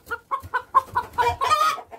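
Broody hen clucking close by, a quick series of about ten short clucks rising into a longer, louder agitated call at the end.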